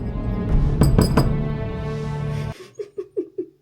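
A spoon stirring collagen powder into a glass of water, giving several bright clinks against the glass under a steady hiss, followed by a short series of breathy, laugh-like vocal bursts.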